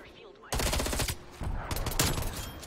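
FFAR rifle in Call of Duty: Cold War fires in two rapid automatic bursts, loud and close, each a fast rattling string of shots with a brief pause between, while a voice talks faintly underneath.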